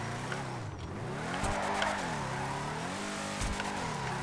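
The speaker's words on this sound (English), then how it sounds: "Got a very stock car purr to it." A Declasse Drift Tampa muscle car engine in a driving video game hums steadily as revs rise and fall, with some tire squeal mixed in and no talk.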